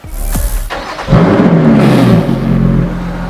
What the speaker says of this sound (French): On tourne la clé, tout s'allume, pied sur l'embrayage, engine start